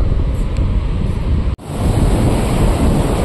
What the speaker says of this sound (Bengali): এই যে ঢেউ আসছে, ঢেউ আসছে, পিছনে কিন্তু বড় বড় ঢেউ, ঢেউ ছুটে আসছে